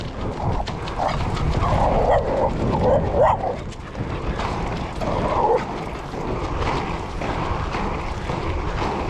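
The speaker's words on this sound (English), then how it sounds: "we got chased by quite an aggressive dog" An aggressive dog barks repeatedly and loudly while chasing a runner at a Dulwich parkrun, the sharp barks overlapping with quick running footsteps and steady outdoor noise.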